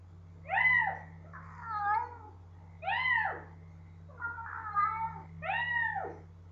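A human voice imitates a cat meowing, giving about five drawn-out, wavering meow-like calls with short pauses between them over a low background hum.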